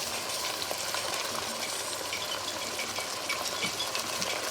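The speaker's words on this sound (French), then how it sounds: "On va les laisser un peu mijoter 2 minutes." Beans with minced meat, seasoned with salt, nutmeg and pepper, simmering in a saucepan, giving a steady close bubbling and sizzling hiss that runs continuously without a break.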